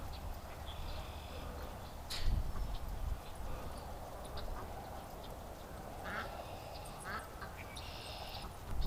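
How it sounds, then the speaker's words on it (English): An upset domestic duck quacking, several distinct nasal quacks in short clusters at moderate distance over a steady outdoor background, with a brief thump of footsteps or movement near the start. "She's got this unique upset sound on her quack."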